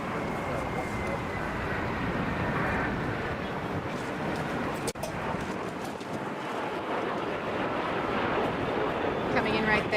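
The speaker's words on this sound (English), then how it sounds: "Coming in right there, that was Delta Airlines Flight 950 coming in from Seattle" A Delta Airlines jet landing at Atlanta's Hartsfield-Jackson airport, heard as a steady, broad engine roar with wind buffeting the microphone, holding level throughout with a brief thump midway; a voice speaks faintly underneath.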